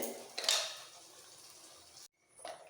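Water splashes and swirls as a small amount is rinsed around a mixer grinder jar in a home kitchen, with light clinks of the jar, a brief pause, then a short final slosh.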